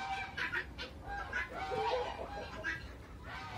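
Chickens cluck and murmur in a coop, a steady stream of short, overlapping calls at close range.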